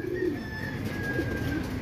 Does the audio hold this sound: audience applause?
no